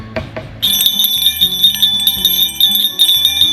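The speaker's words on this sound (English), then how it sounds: "These are the 1 inch bells, so you're really going to hear it when you've got a bite on your line." Small 1-inch fishing bells on a line jingle loudly and continuously after a few light knocks, a bright, shimmering metallic ringing up close with steady rapid shaking.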